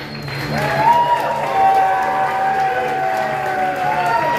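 A comedy club audience at Stand Up Live in Phoenix applauds and cheers, with steady clapping and whoops mixed with a few loud whistles carrying over the crowd noise.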